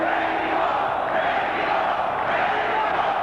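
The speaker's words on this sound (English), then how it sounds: "Mexico is the chant from the crowd, trying to urge on Chavez." The boxing crowd at Julio Cesar Chavez vs Frankie Randall chants "Mexico" in a loud, sustained roar of many voices, rising and falling in a steady rhythm to urge on Chavez.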